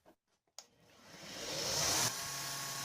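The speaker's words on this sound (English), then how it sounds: "Using the green polishing compound on the buffer wheel, I can get the ring a nice shiny finish to it." A buffer wheel loaded with green polishing compound spins up on a Damascus ring, a few faint clicks giving way to a steady rising whir that cuts off suddenly and leaves a low hum.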